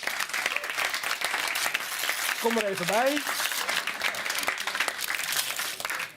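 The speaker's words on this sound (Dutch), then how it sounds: "Applaus" Steady, dense applause from an audience at a live event fills the whole stretch, with a voice briefly speaking over the clapping midway.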